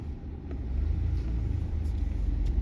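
Car driving along quiet back roads, a steady low engine and road rumble filling the whole stretch at moderate loudness with no voices.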